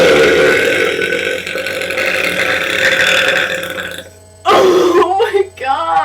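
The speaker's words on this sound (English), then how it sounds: "Maybe I should just do a really long burp." A girl lets out a loud, very long, drawn-out burp right up close, rumbling steadily for about four seconds before she breaks off and starts talking.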